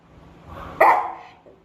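A dog gives a single sharp bark, close and loud, preceded by a faint low whine and followed by a softer trailing yelp.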